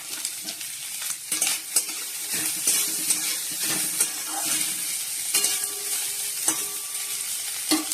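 Grated coconut frying in oil in a kadai with cumin, dried red chili and bay leaf. A loud, continuous close sizzle is punctuated by repeated spatula scrapes and stirring clicks, with no voices.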